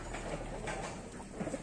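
Pigeons held in a loft in Chennai flutter and coo as two are released, a soft, low, close rustle of wings under faint background hum, with no talk.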